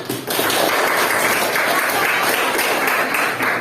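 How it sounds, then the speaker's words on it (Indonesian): A classroom of students applauding a group after their presentation, a sustained burst of dense clapping that starts abruptly and carries on evenly, close and fairly loud. "kita kasih apresiasi untuk kelompoknya Salsa dengan tepuk tangan"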